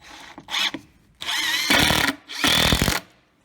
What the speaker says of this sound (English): Then I use decking screws, which are 65mm